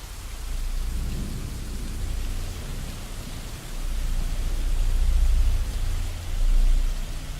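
Steady rain falling outside a porch, a dense hiss with low rumbling swells, like distant thunder, rising and falling under it, close and continuous with no voices.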